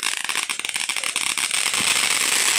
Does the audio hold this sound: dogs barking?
no